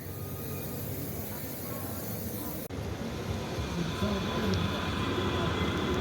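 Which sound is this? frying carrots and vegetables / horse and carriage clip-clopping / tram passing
tram passing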